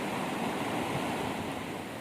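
The Kala river flows with a continuous broadband rush, a steady, fairly quiet wash of water with a faint wind-like hiss, unbroken and free of voices.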